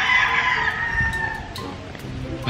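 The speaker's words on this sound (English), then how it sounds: "Ligaya, you hear those? Those are roosters." Roosters crow outdoors, several drawn-out cock-a-doodle-doo calls overlapping at moderate distance, with occasional clucks and faint background noise.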